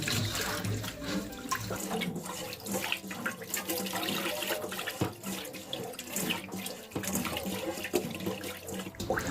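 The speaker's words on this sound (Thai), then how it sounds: "ใส่เนื้อปลาลงไปล้างได้เลยค่ะ เวลาล้างก็ล้างอย่างเบามือนะคะ" Small fish are washed gently by hand in salted water, producing close, continuous splashing and sloshing with running-water swirls throughout.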